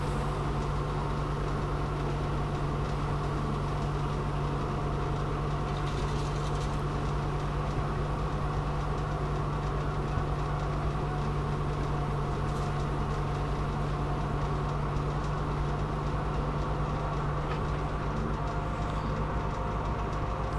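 Tractor engine raking hay in a swampy, muddy field, a steady close mechanical drone with a strong low hum running unbroken throughout, no voices.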